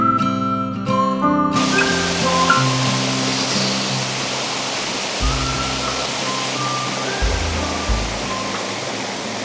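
Cold water flowing steadily at a bathing spot beside a bungalow in Kalimpong, a loud, continuous rushing wash that fills the whole stretch, close by, with a brief tonal musical sound at the very start.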